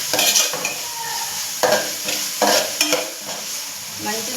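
Onions and ginger-garlic paste fry in hot oil in a pan, a steady close sizzle broken by repeated scraping stirs of a spoon against the metal.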